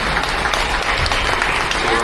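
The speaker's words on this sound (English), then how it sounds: "Big round of applause for them" Hackathon audience at ETHDenver giving the judges a big round of applause, loud dense continuous clapping from a large crowd, with voices mixed in.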